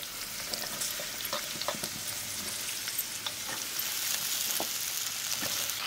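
Chopped ridge gourd and long beans go into lightly roasted chickpeas in a pan, giving a steady soft sizzle with scattered stirring scrapes and clicks, close and fairly quiet.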